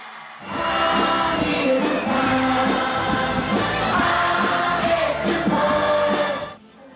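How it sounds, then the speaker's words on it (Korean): Some five thousand citizens crowd the Busan Station plaza, clapping and cheering in welcome, a loud, sustained mass of applause and shouting that swells in and carries on for several seconds over festive background music before fading. "시민 5천여 명이 박수와 환호성을 지르며 반깁니다"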